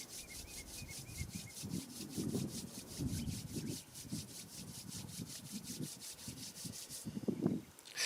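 Palms rubbed briskly together during a guided exercise routine, a steady run of soft, dry swishing strokes that carries on for several seconds close to the microphone, with a faint steady hiss behind it.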